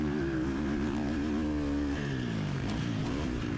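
Motocross dirt bike engine on a track, revving and shifting pitch continuously at a constant loud level, close to the microphone, with no talking.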